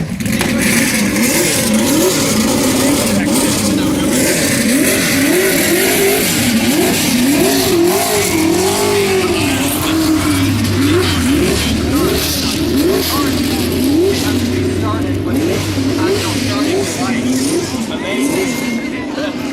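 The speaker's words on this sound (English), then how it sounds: "You see an Indy car driving here on the golf course" An Indy car engine drones and revs continuously at close range on a golf course, the pitch rising and falling in repeated waves, with people talking beneath it.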